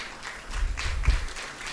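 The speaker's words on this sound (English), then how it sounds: "Please keep the applause coming." Faint, brief applause from an audience at a school event, a soft patter of clapping heard from a distance.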